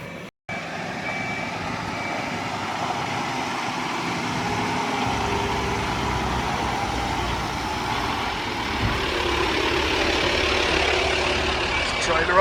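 A lorry engine idles at a forestry clearing site, a steady, close rumble that runs continuously, joined by repeating reversing beeps.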